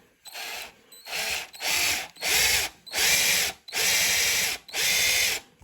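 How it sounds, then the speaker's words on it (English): An electric drill bores angled holes in an electric guitar body in seven bursts, each revving up and cutting off with short pauses between, close and fairly loud. "I'm going to take this drill, then angle it a little bit"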